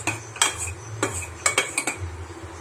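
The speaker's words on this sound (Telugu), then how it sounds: "మధ్య మధ్యలో ఇలా స్పూన్తో తిప్పుకుంటూ ఉండండి, లేదంటే పొంగిపోతుంది" A metal spoon clinks and scrapes against a pot as simmering butter is stirred for homemade ghee, several sharp close taps in an irregular rhythm over a low steady hum.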